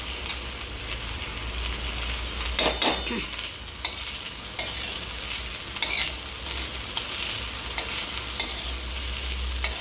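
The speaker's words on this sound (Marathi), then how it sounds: "आपण कांद्यामध्ये तेलामध्ये थोडी भाजून घ्यायची" Sprouted moong frying in oil with onions sizzles steadily in a pan, broken by a few sharp scraping stirs of a spoon, with no talking.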